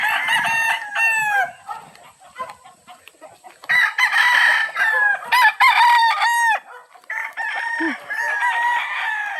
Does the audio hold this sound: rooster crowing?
yes